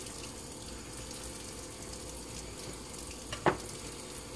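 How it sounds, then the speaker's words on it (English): Tap water runs steadily while a freshly cleaned black drum fish is rinsed, a constant close splashing hiss with one brief clunk of handling near the end. "Let the running water rinse it off."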